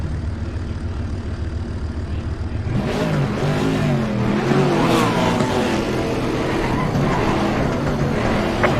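A GT4 race car in Assetto Corsa Competizione, with a low steady engine drone that swells into loud, rising revs after about three seconds and keeps roaring through repeated gear climbs.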